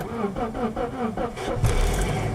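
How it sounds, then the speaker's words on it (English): A starter motor cranks in a rapid rhythmic churn for over a second before the engine catches and settles into a steady running rumble. "let's turn the engine on"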